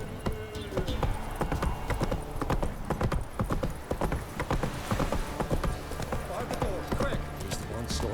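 A horse's hooves clip-clop in a steady walking rhythm in the video game The Witcher 3, close and continuous, with other game sounds and a voice speaking over it.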